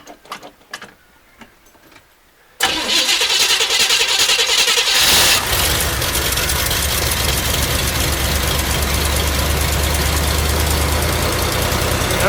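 A 1972 Corvette V8 engine cranks and fires up after a few seconds of quiet shuffling, then settles into a loud, steady idle with a rough, lopey rumble that continues to the end.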